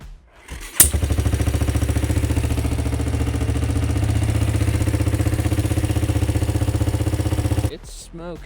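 A 40-year-old motorcycle engine sputters to life after a short cough, then idles loudly with a rapid, uneven chugging beat before cutting off.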